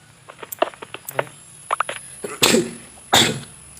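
Light scattered taps and clicks lead into two loud, close sneezes in quick succession, sharp and breathy, during a Minecraft gaming session.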